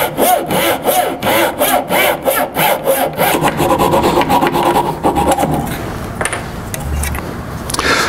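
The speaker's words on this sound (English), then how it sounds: "I'm going to get started and let the saw do the work." Hand saw cutting a dovetail notch into wooden stock for a sliding dovetail bookend rail: loud, steady back-and-forth strokes in a quick even rhythm, close up, fading into softer rasping scrapes toward the end, with no talking.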